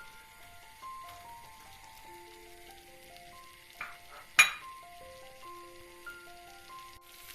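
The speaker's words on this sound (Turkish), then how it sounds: "Şimdi pidelerimizi kızartmak için tereyağıyla ocağa koyuyorum." Pide flatbread frying in butter on a stove, a soft, quiet crackle and hiss under gentle background music, with one sharp clink partway through.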